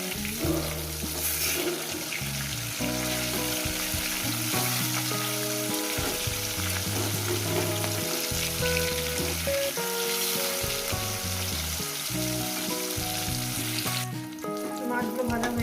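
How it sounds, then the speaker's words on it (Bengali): Pieces of large mrigal fish frying in hot oil, a steady loud sizzle and crackle running continuously throughout with occasional stirring, close up and without talking. "মাছগুলো ভাজা হয়ে গেছে।"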